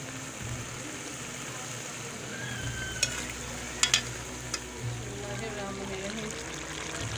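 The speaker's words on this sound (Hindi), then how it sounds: "चिकन की बुनाई करूँगी, फिर मटर शामिल करूँगी।" Chicken sizzles and fries in a pan while being stirred for a village-style matar gosht with peas, a steady frying hiss with a few sharp clinks of a utensil against the pan.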